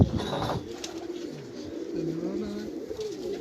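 Pigeons on a rooftop giving low, rolling coos, several overlapping calls close and steady against faint background noise, with brief talk at the start.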